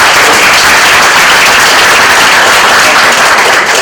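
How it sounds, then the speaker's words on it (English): A sustained round of audience applause at a community meeting on bike lanes hosted by Hudson Catholic, dense steady clapping filling the room for several seconds with no talk over it. "Can we give them a round of applause?"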